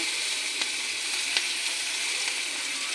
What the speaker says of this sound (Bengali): পেঁয়াজটা একটু হালকা করে ভাজা করে নিই